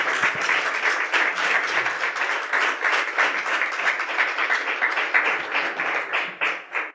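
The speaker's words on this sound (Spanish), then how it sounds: "Dele un aplauso al Señor en esta hora" A church congregation claps together in a dense, sustained round of applause, loud and close, steady for several seconds before tapering at the end.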